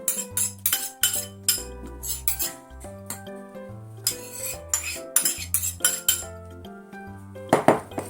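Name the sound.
mixing oat batter into mashed banana and egg in a bowl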